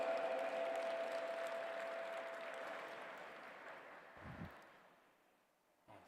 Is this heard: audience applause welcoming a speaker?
yes